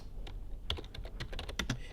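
Quick bursts of keystrokes on a computer keyboard, close and fairly quiet, a rapid uneven patter of clicks lasting under two seconds with no voice over it.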